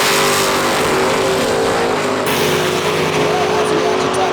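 A 1989 Ford Mustang and a 1969 Camaro run side by side at a drag strip, their loud engine roar steady and close for the whole stretch, with a shift in pitch partway through.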